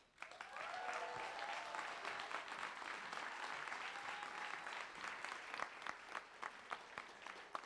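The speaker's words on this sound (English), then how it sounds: "we can give them another round of applause" Audience applause at a live FF10 2019 event rises into steady, dense clapping that carries on throughout, close and full, with sharper individual claps poking out toward the end.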